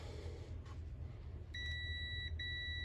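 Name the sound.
multimeter continuity check beep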